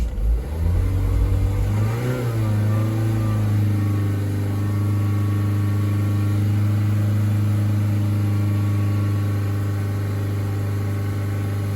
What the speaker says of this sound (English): So my top tip when you start it is to give it some revs